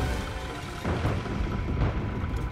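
Explosions in a video game, heard as two dull, rumbling booms about a second apart over a constant low background roar, with no talking.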